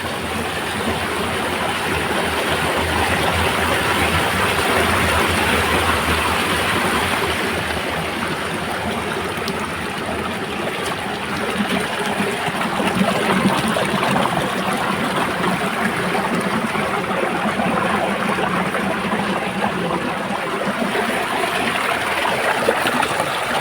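A river in a Konkan village flows steadily, a broad continuous wash of running water with a faint trickle, filling the scene at an even level with no voices.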